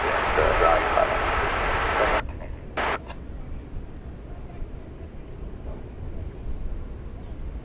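Airbus A350-1000 arriving from Doha after a long flight, a loud broad engine roar near the start that cuts off abruptly after about two seconds, leaving a faint distant drone with a brief burst in between.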